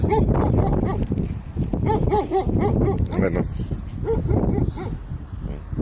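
A family of desert dogs barks and whimpers in short, irregular bursts at close range, the yips and barks overlapping with a voice talking throughout.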